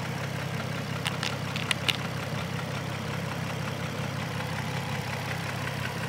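A Nissan 350Z idles steadily with a low, even engine drone while its radiator is bled, a few faint ticks and clicks rising above the hum.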